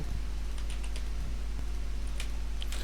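Keys clatter on a computer keyboard as configuration commands are entered on a Cisco switch, a steady patter of close, moderately loud keystrokes over a constant low electrical hum, with no one speaking.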